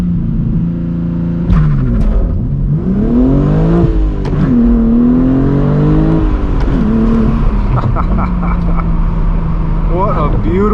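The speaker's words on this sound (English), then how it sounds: "enjoy some nice twisty and tight roads in the M4 G82" BMW M4 G82 with a manual gearbox, driven on twisty, tight roads. The engine is heard close up, revving up and dropping back through several gear changes, with a steady rumble between pulls and a voice talking over it.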